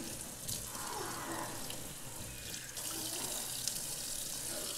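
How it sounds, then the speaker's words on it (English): Tap water runs steadily over aquarium filter pads for an Aqueon QuietFlow 75 Pro power filter, a continuous close splashing hiss in a sink with small shifts as the pads move under the stream, no voices. "Also rinsing off the filter pad will get rid of any excess carbon"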